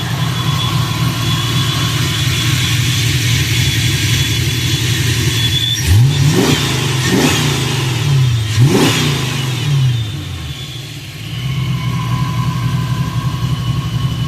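A 1990 Ford Mustang LX Foxbody fitted with M80 mufflers idles with a deep rumble, then blips its throttle in three sharp revs that rise and fall before it settles back to a steady, loud idle.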